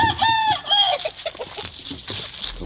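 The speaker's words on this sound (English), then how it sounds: "Chicken." A few chickens cluck loudly and close by, opening with a high, drawn-out crow-like call, then breaking into a run of scattered, choppy clucks over a rustling yard background.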